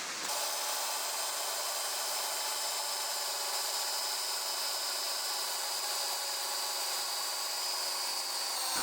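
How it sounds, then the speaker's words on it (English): A power drill drives a winch with a steady, high, continuous whine that holds at an even pitch from start to finish, close by and unbroken. "The little drill-powered winch,"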